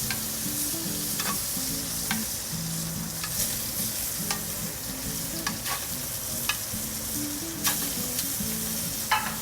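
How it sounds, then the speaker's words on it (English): Scallops sear in a hot, smoky pan with a steady, bright sizzle, punctuated by sharp crackles and pops, close up, over a faint background music bed. "You can see it's a nice hot smoky pan. And then you slowly and carefully add your scallops."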